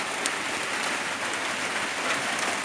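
Steady rain falls on a rural Thai cattle-farming field, a soft, even, continuous hiss with faint patters, heard alone at low volume.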